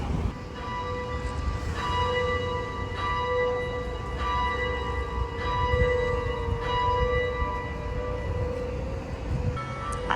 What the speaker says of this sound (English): church bells will always go off in every 15 minutes